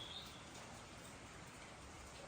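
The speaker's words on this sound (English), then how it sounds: "Just the pitter-patter of raindrops." Raindrops patter in a soft, continuous wash, fairly quiet and steady throughout, with a faint high bird-like chirp near the start.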